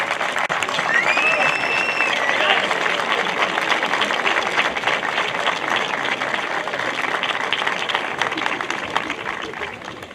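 Sustained dense applause from a large high school graduation audience, a steady roar of many hands clapping for about ten seconds, with crowd murmur and a few whoops or whistles mixed in, tapering slightly at the end.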